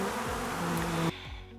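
Bees buzz steadily close by in a dense, droning hum that cuts off suddenly near the end, leaving a fainter buzz.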